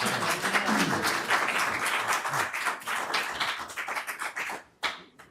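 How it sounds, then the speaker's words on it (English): An audience at a planning board meeting claps: a dense burst of many hands applauding steadily, then thinning and fading out into a few scattered claps near the end. "clapping kind of just disrupts the meeting a little bit"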